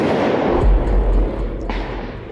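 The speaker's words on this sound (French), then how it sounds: "Oh, mais il y a un feu d'artifice." A fireworks display booms and rumbles in deep, heavy thuds, with a strong blast early on and a sharper crack later, loud and fairly near, no speech.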